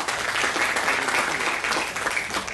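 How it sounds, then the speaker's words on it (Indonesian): Audience applause at a talk held at Taipei Medical University, steady dense clapping filling the whole stretch at an even level with no voices over it. "Tepuk tangan dulu buat teman-teman semua."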